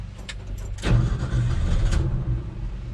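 A 1971 Ford F100 pickup with a rich-running carbureted engine cranks briefly, then catches and fires up with a loud surge, settling into a rough, steady idle close by.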